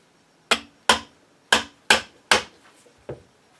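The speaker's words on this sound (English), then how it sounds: "So I'm just going to lightly tap around on it, give it some vibration." A custom glass-bedded HW30 rifle stock is tapped with a tool six times in an uneven rhythm, each knock sharp and close, the last one softer, with quiet gaps between and no speech.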